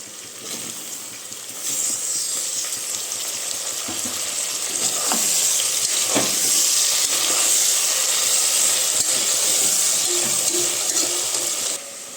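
Onions and tomatoes sauté in a pan for a pressure-cooker basmati rice country-chicken biryani, giving a steady, loud sizzle and hiss that swells partway through and runs continuously with no talking.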